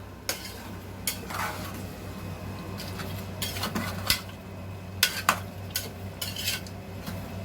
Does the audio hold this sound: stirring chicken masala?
yes